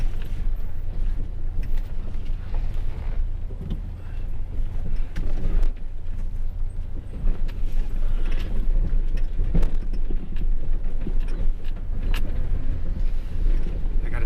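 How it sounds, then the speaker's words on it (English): A pickup truck crawls in four-wheel-drive low over a rocky road north of Big Bear, with a steady low engine rumble, rattles and bumps from the cab, and wind buffeting throughout. "4 low in this truck has really got some oompa"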